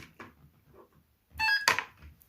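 A brief electronic beep with layered tones from the motor of a WPL C24-1 RC truck as it powers on, immediately followed by a short clatter, against a quiet background.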